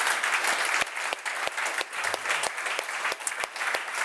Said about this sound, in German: jetzt einen Applaus